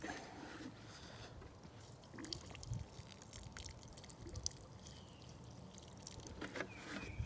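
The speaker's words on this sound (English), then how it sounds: "I saved some rainwater, so I'm going to actually use that good water from the earth. And just water it just like that." Saved rainwater poured from a can onto the soil around a Brandywine tomato plant, a soft steady trickle and splash that runs continuously at low volume.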